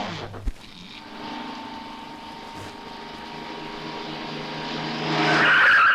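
A car slows with a long tire squeal and brake noise, a steady screech that swells toward the end, preceded by a sharp thump.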